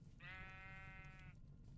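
A ram sheep in Minecraft gives a single drawn-out bleat lasting about a second, loud and clear over a steady low background hum.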